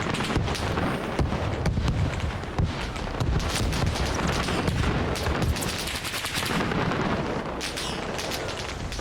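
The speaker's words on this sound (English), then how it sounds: "Right, pretty cool mortar effects." A mortar barrage in Arma Reforger fires as dense, continuous booms and cracks, loud overlapping blasts rolling on for several seconds with no pauses and no voices.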